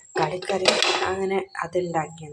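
Dishes and pots clatter and clink beneath someone talking steadily, close by, with the scraping and knocking of washing-up throughout.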